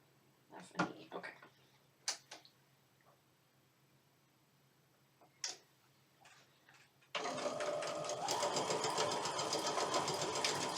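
A sewing machine stitches pieced quilt blocks, running steadily and fairly loud for the last few seconds after scattered handling clicks and rustles earlier.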